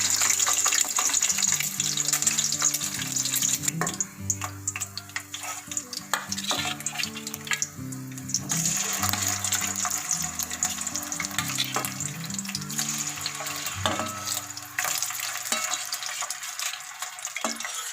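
Boiled eggs fry in oil in a pan, giving a close, continuous sizzle full of crackles and spits that carries on steadily with no talking.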